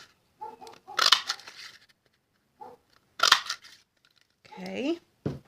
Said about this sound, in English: I'm going to take the leaf punch, and I'm going to cut out 3 of these leaves here.